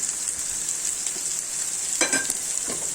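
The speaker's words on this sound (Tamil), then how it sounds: "நல்லா வதக்கி விட்டுக்கோங்க." Sliced large onions with a little salt sauté in hot oil in a kadai, giving a steady, close sizzling hiss with a few sharper crackles and stirring bursts near the end, with no talking.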